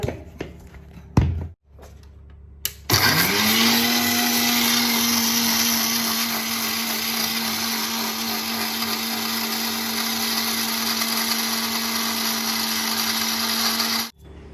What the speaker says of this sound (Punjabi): ਹੁਣ ਆਪਾਂ ਇਹਨੂੰ ਕਰਦੇ ਆਂ ਗ੍ਰਾਈਂਡ